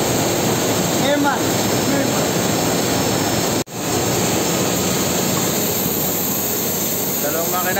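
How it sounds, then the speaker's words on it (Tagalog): Loud, steady roar of two engines running nonstop, briefly cutting out for a moment before resuming, with faint voices underneath. "Dalawang makina tumatakbo mga lods."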